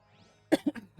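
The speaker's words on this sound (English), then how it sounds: "I'm coughing so much now because I moved up so much dust when I was rearranging my room" A person coughs from dust stirred up while rearranging a room: a quick run of three close, harsh coughs after a moment of quiet.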